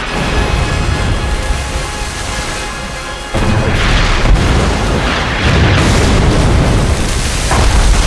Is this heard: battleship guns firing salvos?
yes